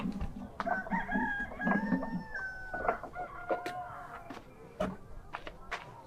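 Chickens clucking and crowing close by in a farmyard: repeated rising calls and short clucks overlapping in an irregular rhythm, with brief sharp knocks and faint background noise.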